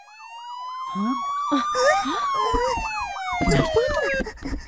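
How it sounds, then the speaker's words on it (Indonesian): An ambulance siren wails loudly in a repeating up-and-down pattern through a residential neighbourhood in an animated children's cartoon, steady throughout, with a voice briefly speaking over it. "Ada ambulan ke rumah tu."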